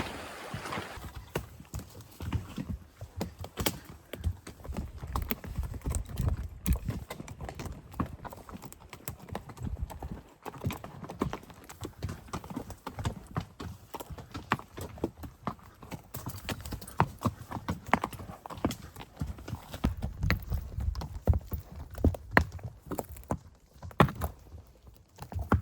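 Pack horses on a mountain trip near camp, with hooves clip-clopping in a steady, irregular walking rhythm at close range, moderately loud, alongside rustling and occasional brief voices.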